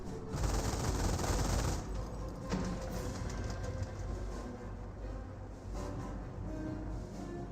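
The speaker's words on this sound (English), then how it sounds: "firing away against these rifleman squad" Rifle squads and snipers trade fire in the strategy game Company of Heroes 1, with dense, continuous rapid gunfire crackling throughout and a few sharper individual shots standing out.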